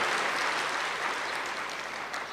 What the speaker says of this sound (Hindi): इसके ताली भी बड़ी बजनी चाहिए